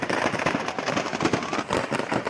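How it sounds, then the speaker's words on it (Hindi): Firecrackers bursting in rapid, continuous crackling inside a burning shop, a dense, loud barrage of overlapping pops and bangs. "जो पटाखे हैं वो एक के बाद एक फूटते हुए दिखाई दे रहे हैं।"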